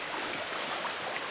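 A jungle river in Sabah, Borneo, flows with a continuous, fairly loud rushing and burbling wash, steady throughout with no voices.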